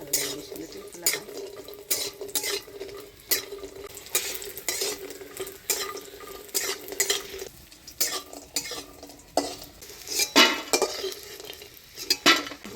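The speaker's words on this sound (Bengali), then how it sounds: "বড়িটা লাল করে ভেজে নিলাম" Lentil dumplings (bori) fry in oil in a pan in a village kitchen, a soft steady sizzle broken by repeated clinks and scrapes of a utensil stirring against the metal pan, close and clear with no talking.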